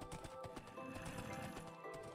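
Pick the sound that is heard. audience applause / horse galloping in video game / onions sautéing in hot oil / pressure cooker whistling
horse galloping in video game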